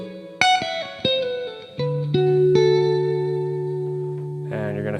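Electric guitar with reverb and echo effects plays a pentatonic lick: a few plucked notes and bends settle into a sustained ringing note, then a slide, close and clear with no talking.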